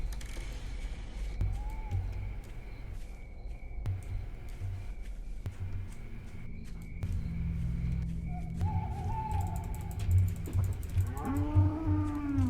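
Cows moo in a cow-tipping video game, with low bellowing calls over a steady hum and scattered mechanical clicks, moderately loud and close.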